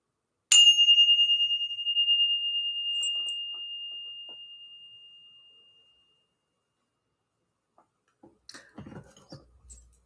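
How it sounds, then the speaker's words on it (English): A bell is struck once, a clear, bright ding that rings on and slowly fades over several seconds into silence, followed by faint rustling. "Let's go ahead and ring the bell."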